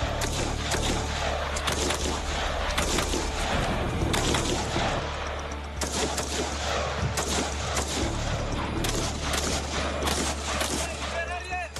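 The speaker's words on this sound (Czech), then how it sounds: "Nepřetržitá palba v pohybu, to je cíl." Continuous rifle fire on the move during French Foreign Legion 2nd REP training, dense overlapping shots and booms at close range with shouted voices mixed in.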